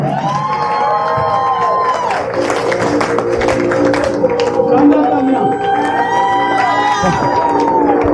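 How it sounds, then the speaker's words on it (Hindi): Live audience at a results and plan presentation clapping and cheering throughout, a dense steady wash of hands and shouts with a voice speaking over it. "दोस्तों एक तालियां मेरे लिए"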